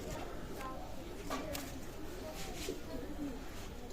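A male Pakistani Teddy pigeon in a loft gives soft, low cooing calls in short repeated phrases, faint and close, under someone talking.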